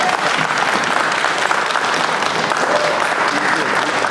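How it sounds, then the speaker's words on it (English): Sustained applause and standing ovation from a large crowd at a Rotary Club awards event, dense and steady clapping throughout with no pauses. "give all of our young ladies a round of applause and a standing ovation"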